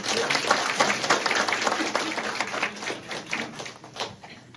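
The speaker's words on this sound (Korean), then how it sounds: "박수로 우리 환영할까요?" Congregation applause welcoming the presbytery moderator at a church founding thanksgiving service: a dense, steady patter of many hands clapping, filling the whole moment at moderate loudness, with no voices over it.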